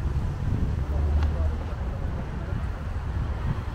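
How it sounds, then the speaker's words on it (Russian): Strong, gusty wind at a hot-air balloon launch site in Samarkand, Uzbekistan, heard as a loud, steady low rumble of buffeting against the microphone for the whole stretch. "Смотрите, какой ветер. На Самарканде действительно очень сильный ветер."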